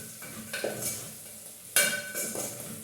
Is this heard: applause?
no